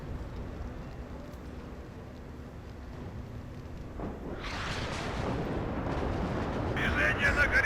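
In a tank video game, gunfire and explosions boom amid burning wreckage. The rumble is low and continuous, then a sharper blast hits about midway, and the barrage swells louder toward the end.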